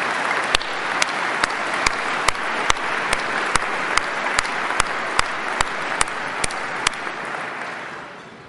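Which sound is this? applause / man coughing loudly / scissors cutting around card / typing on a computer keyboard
applause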